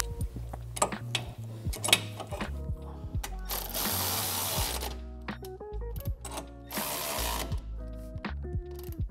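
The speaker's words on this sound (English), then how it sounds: "I'm gonna go ahead and tighten up the lower control arm bolts now." A ratchet tightening the lower control arm bolts on a Dodge Challenger during an air suspension install, with rapid repeated clicking bursts and metallic clinks close to the microphone.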